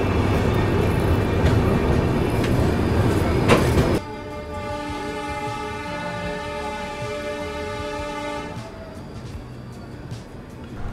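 Vivek Express train arriving at Dibrugarh: loud rumbling carriage noise, then a sustained, steady horn-like tonal drone as the train slows, with the rumble fading at the end.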